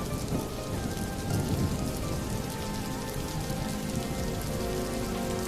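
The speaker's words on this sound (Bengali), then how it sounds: "এই মুষলধারে অঝোর বৃষ্টির মধ্যেও" Heavy monsoon downpour pours steadily over a large taro garden, a dense continuous hiss of rain striking surfaces with no pauses, loud and close throughout.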